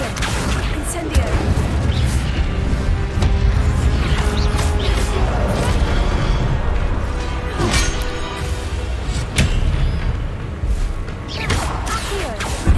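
Spells go off in rapid succession during combat in the video game Hogwarts Legacy, including the Incendio fire spell, with repeated whooshing bursts, cracks and impacts under a steady rumbling game mix.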